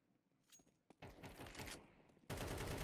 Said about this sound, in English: No, stop shooting immediately, see?